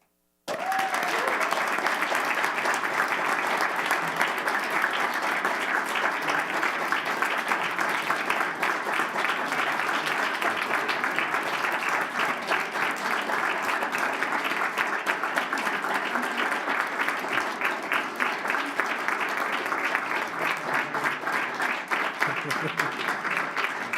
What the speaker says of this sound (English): please join me in a round of applause to congratulate our winning Del Valle High School soccer coach, Mr. Bruce Reichman.